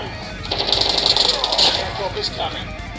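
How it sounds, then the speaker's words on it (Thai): Rapid automatic gunfire from a mobile shooting game played on a Xiaomi 11T Pro phone rattles in loud bursts, with excited voices talking over the shooting throughout. "เขายิงกันอยู่ไหนวะ"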